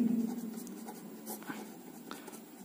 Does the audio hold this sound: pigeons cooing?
no